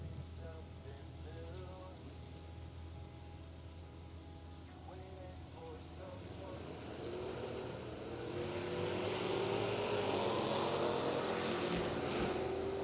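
Drag race between a Malibu and a Challenger, engine roar building steadily as the cars launch and accelerate down the strip, with commentary voices over the noise.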